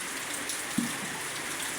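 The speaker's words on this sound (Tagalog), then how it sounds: "maulan pa rin dito" Steady rain falling outdoors during a typhoon, a continuous broad wash of patter with one brief knock midway, fairly faint and without talk.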